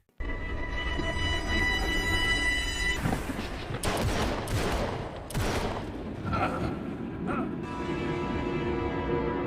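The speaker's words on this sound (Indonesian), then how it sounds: "baku tembak pun terjadi antara Vincent CS dan kelompok triad" Gunfire crackles in a film shootout between a gang and a triad group, loud sharp shots and rapid bursts over a tense music bed, with voices underneath.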